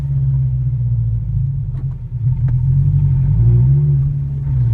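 A turbocharged Toyota 86 heard from inside the car at partial throttle gives a steady, deep engine rumble with mild rises in pitch. The sound is continuous and fairly loud, with no talking over it.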